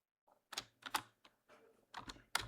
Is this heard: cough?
no